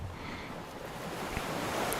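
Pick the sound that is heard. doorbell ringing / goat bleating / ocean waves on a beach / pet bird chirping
ocean waves on a beach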